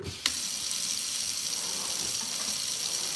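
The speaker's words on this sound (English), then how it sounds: "wash out my brush, all that stuff while I do" Tap water runs steadily into a sink while a hair dye brush is rinsed, a constant hissing gush that starts abruptly and continues alone.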